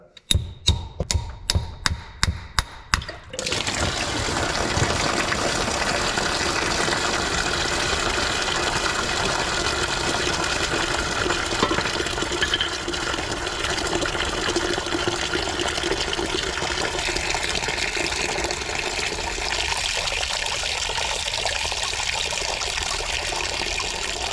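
Antifreeze drains from the 428 engine of a 1969 Pontiac Bonneville Safari Wagon: a few quick rhythmic knocks, then a steady, fairly loud rushing pour that continues evenly without talk.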